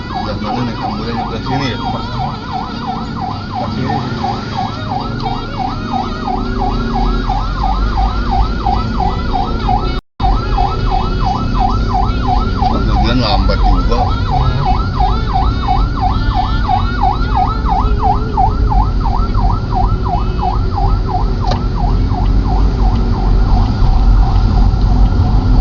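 Ambulance siren wailing continuously in street traffic at a market, loud and steady with a repeating rising-falling pattern, under traffic rumble, with a brief cutout midway.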